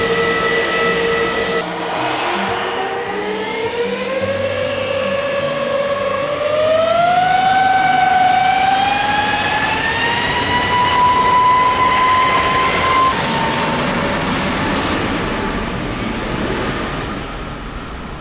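Airplane taking off at Madeira Airport, a loud sustained engine roar with a rising whine that climbs steadily in pitch, close and continuous throughout with no talking.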